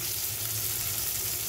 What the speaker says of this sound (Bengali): এবার যে তেলটা আছে তেলের মধ্যে আমি পেঁয়াজ দিয়ে দিলাম